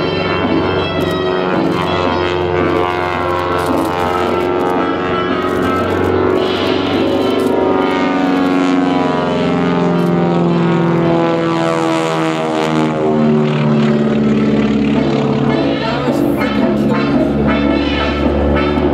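A Twin Beech 18 propeller airplane flying aerobatics at an airshow, its radial engines droning loudly and continuously, the pitch sliding down and back up as it passes overhead, with no voices.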